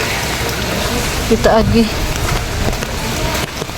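Heavy rain pours down in Davao City, a steady broadband hiss filling the whole stretch at close range, with a voice speaking briefly over it partway through.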